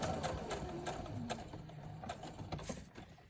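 A home sewing machine works in short rapid bursts of mechanical ticking and whirring, close by and fairly loud, with small clunks between runs of stitching and no voices.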